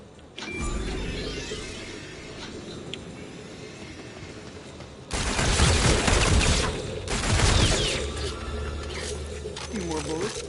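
Video game gunfire against zombies: a quiet stretch with scattered sounds, then dense bursts of loud shots and rapid volleys fill the second half, with a voice talking underneath.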